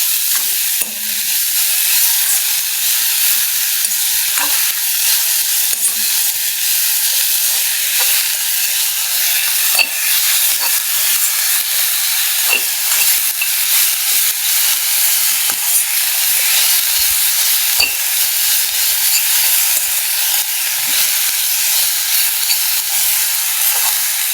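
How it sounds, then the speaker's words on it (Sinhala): Kohila mallum, chopped kohila leaves sautéed with salt in a pan, sizzles and hisses steadily and loudly throughout with occasional stirring scrapes and no talk. "දැන් හොඳට මලවගන්න."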